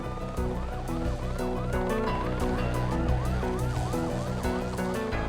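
Police car sirens blaring during a high-speed chase, rapid repeated whooping yelps cycling steadily over a dense engine and road roar, loud and continuous throughout.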